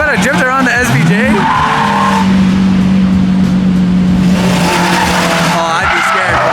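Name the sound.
Lamborghini SVJ drifting, tires squealing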